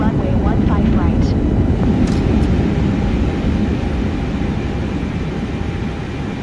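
An Airbus A321 takes off from runway 15 right with a steady, loud, broadband engine roar that fades slightly toward the end, with radio voices briefly heard over it early on.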